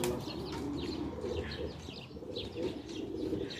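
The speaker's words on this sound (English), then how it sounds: "Different colors of pigeons." Several pigeons of different colours cooing in a bird garden, soft repeated low coos with light chirps and some wing flutter, close by over steady background noise.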